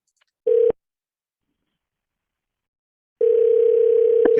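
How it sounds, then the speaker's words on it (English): Ringback tone of an outgoing phone call: a short, steady electronic ring, a pause of roughly two and a half seconds, then a longer ring. Loud and clean, with no voices. "Can everybody hear it ringing?"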